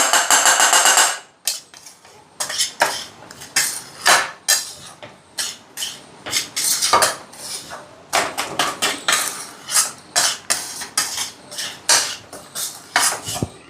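A spoon scrapes and knocks against a pan on a gas stove as a sweet fasting ladoo mixture is stirred, giving close, loud, irregular clatters and scrapes in quick succession.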